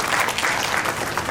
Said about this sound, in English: Please welcome the General with a big round of applause.